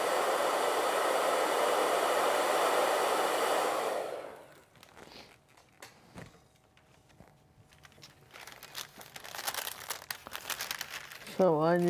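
A hair dryer drying acrylic paint blows as a loud, steady broadband rush for about four seconds, then cuts off, leaving quiet handling noises, rustling and a voice talking near the end.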